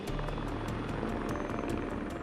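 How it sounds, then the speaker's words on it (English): A Canadian Armed Forces Griffin helicopter on a beach, its rotor beating in steady, rapid thumps over a loud, continuous engine roar at close range. "So they called in Canadian Armed Forces Griffin helicopter, which has landed on the beach to take away the injured person to further medical care."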